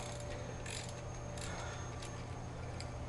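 Ratchet wrench with a 1/2 to 3/8 adapter working a rear wheel nut on a Roketa MC-54 250B, faint clicking pawl and mechanical rasps over a steady low hum.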